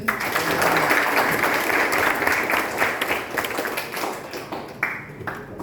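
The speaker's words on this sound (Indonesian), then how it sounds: "Tepuk tangan semuanya" Applause from students and staff at a vocational school event in Karangrayung, a lively burst of clapping that thins out toward the end into scattered individual claps.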